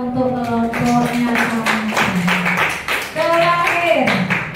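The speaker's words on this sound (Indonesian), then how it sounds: "Beri tepuk tangan untuk kelompoknya." Classroom applause for a student group, scattered clapping running throughout under loud overlapping voices and chatter, with no clear break from the talking.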